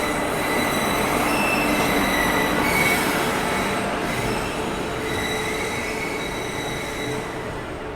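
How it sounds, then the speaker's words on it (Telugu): Visakhapatnam–Mumbai LTT express hauled by a WAP7 electric locomotive arrives at a platform, its wheels squealing loudly and continuously over a close, steady rail rumble. "సో ప్లాట్ఫామ్ నెంబర్ 3లో చూసుకుంటే విశాఖపట్నం ముంబై LTT ట్రైన్ అయితే అరైవ్ అవుతుంది."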